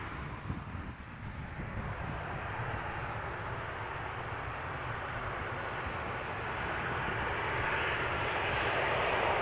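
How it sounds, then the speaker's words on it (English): A KLM Boeing 737-700 arriving from Copenhagen at Amsterdam Schiphol passes close overhead, a broad continuous jet roar that swells gradually louder over several seconds, with some wind noise and no talking. "(737-700) KLM flight arriving from Copenhagen."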